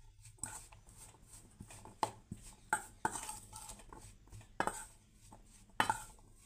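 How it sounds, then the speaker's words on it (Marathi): Boiled corn kernels being stirred with cornflour and maida in a bowl, with irregular close spoon clinks and scrapes against the dish and quiet gaps between them. No one speaks. "आता याला व्यवस्थित मिक्स करून घेऊया।"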